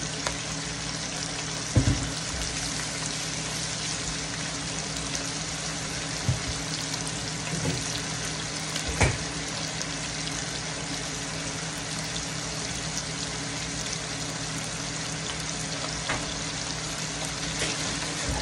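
Chicken broth for chicken lomi simmering in a pot, a steady soft hiss and bubbling wash with a few faint clinks, no voices present.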